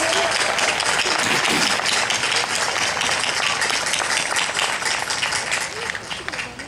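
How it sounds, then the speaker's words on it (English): Sustained, dense applause from a large crowd at a 2015 community college commencement ceremony honoring a 50th reunion class, loud and steady throughout before tapering slightly at the end, with some voices mixed in. "Let's give them a round of applause."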